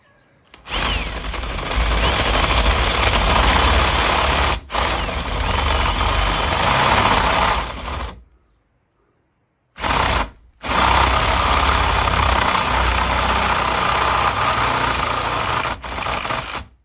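Power drill with a bit boring into a chair, loud sustained grinding whir in several long bursts broken by brief stops, close to the microphone with no talking.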